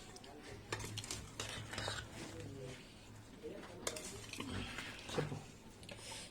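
Mango pickle (avakaya) being stirred and mixed in a bowl, with scattered scraping and clinking of a utensil against the dish, quiet and uneven.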